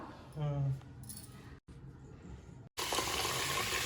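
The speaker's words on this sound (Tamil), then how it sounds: "இப்போ தண்ணி ஊற்றிக்கலாம்" Water pours from a tap into a pot of rice for mutton biryani, a loud steady rushing stream that starts after a few seconds of quieter clinking and handling.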